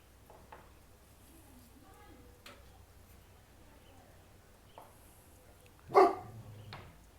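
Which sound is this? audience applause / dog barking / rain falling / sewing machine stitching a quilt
dog barking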